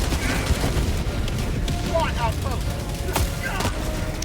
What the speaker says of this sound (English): I'm within range of enemy artillery